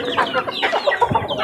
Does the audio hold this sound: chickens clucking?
yes